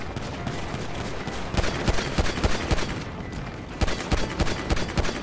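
Gunfire in GTA V Online on PS4, played in first person: bursts of rapid shots crack in clusters, louder toward the middle and end, over a busy game soundscape.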